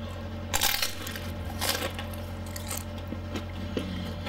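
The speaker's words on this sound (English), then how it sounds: "Did you hear that crunch?" A crunchy homemade cheese stick dipped in French onion dip is bitten and chewed up close. Two or three sharp crisp crunches are followed by quieter chewing.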